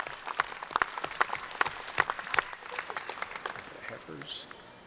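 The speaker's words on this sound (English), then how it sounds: "Let's give our judges a nice round of applause for the good work they've already done." Applause for the judges at a dairy cattle show: a crowd claps steadily for several seconds, dense and moderately loud, tapering off near the end.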